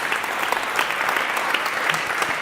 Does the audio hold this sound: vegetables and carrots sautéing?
no